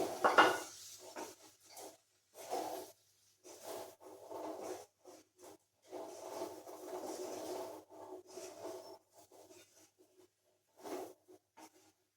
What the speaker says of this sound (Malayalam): ഇതുപോലെ ഒന്ന് ഇളക്കി കൊടുക്കണേ അതായത് ഈ മുളക് പൊടി ഈ എണ്ണയിലും മാങ്ങയിലും കിടന്ന്